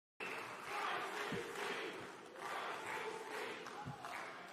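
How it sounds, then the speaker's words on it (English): A large crowd chants in unison in rhythmic surging waves, loud and reverberant as if in a big hall, with a few thumps underneath. "The crowd is chanting Christ is king."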